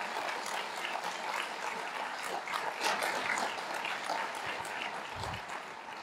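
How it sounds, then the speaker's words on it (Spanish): Audience applause at a Spanish-language book launch event, dense continuous clapping from a crowd lasting the full six seconds at an even level without speech. "Pero antes de eso, George, un aplauso."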